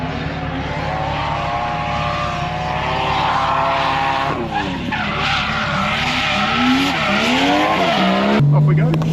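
A drift car sliding backwards in Japan, loud and close, with its engine droning and shifting pitch under a sustained tyre screech, and a sharp change in engine note near the end.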